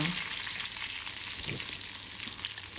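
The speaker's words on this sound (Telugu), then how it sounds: "ఈ ఆయిల్ వేసుకొని దీనికి ఎక్కువగా పప్పు గింజలు ఎక్కువ వేయకూడదండి లైట్గా కొద్దిగా జీలకర్ర కొద్దిగా ఆవాలు కరివేపాకు" Cumin, mustard seeds and curry leaves frying in hot oil in a pan, a dense, steady sizzle and crackle that holds evenly throughout, with a faint stir partway, no talk.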